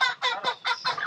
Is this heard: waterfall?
no